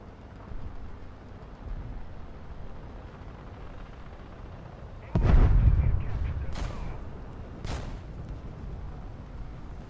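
A tank cannon fires an APHE shell in War Thunder, one heavy, close boom with a rumbling tail over a steady engine drone, followed by two sharper distant cracks.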